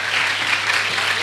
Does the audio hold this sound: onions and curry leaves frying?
no